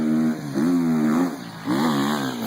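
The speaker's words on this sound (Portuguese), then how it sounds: "Olha como é que a moto grita" A motorcycle engine screams at high revs at a hill-climb event in Sibiu, with three sustained, wavering wails separated by brief dips as the rider shifts or eases off, loud and close.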